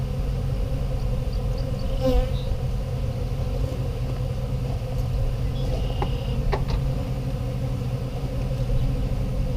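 Honeybees hum steadily around a backyard hive during an inspection, a dense continuous drone close by with a low rumble underneath.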